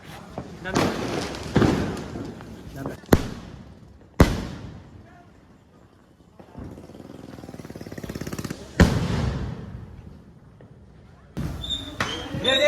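Diwali fireworks of the Niagara Falls type burst in a series of sharp, loud bangs, with a longer crackling fizz in the middle and a final burst. People talk and shout excitedly around them.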